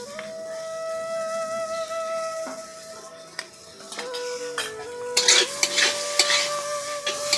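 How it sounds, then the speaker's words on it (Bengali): Taro and elephant foot yam are sautéed with spices in a pan. A utensil scrapes and stirs through the mix while soft frying sizzles beneath, and the clinks and scrapes grow louder and busier toward the end. "কচু আর ওলটাকে সুন্দর করে মশলার সঙ্গে আমি কষিয়ে নিয়েছি"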